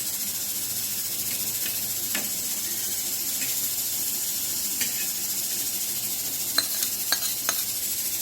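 Panch phoron spices and dried chillies frying in oil, a soft, continuous hiss of sizzling with a few faint crackles and light scrapes, fairly quiet throughout.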